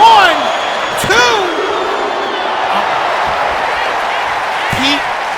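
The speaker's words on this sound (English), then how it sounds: "Listen to this crowd, they're loving this." A wrestling event crowd roars after a near fall, a dense wash of cheering with rising whistles and whoops, loudest at the start and swelling again later, while commentators talk over it.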